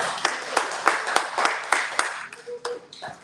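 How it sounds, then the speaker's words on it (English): An audience applauds a poet at a live book event in San Francisco, a quick burst of sharp, close hand claps that thins out into scattered claps as a voice briefly speaks. "Ladies and gentlemen, once again, round of applause, Maria Silva Amy."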